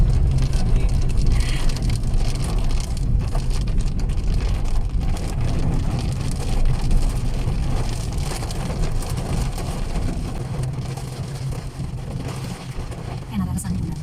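Rain falling outdoors in Tagaytay, a steady broadband wash of drops with low rumble underneath, continuous and fairly loud, with voices talking over it.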